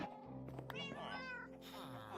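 A cat meows in Minecraft, a couple of soft, rising tonal meows close by over a quiet background, without speech.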